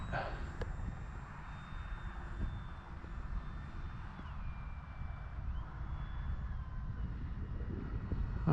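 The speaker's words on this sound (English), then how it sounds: "Now that motor does make a lot of whine, but that's okay." An RC Tecnam model airplane's electric motor whines in flight, a thin steady tone whose pitch dips and rises as the plane turns, heard under wind rumble on the microphone.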